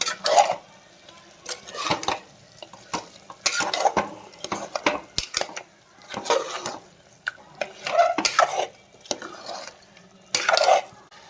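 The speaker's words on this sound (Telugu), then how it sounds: "బాగా ఇవంతా కలుపుకుందాం నీట్గా ఈ మిశ్రమంతా బాగా కలిసినట్టు" A spoon scrapes and clinks around a metal pot of mutton curry mixture in repeated bursts of stirring, close by, with short pauses between strokes.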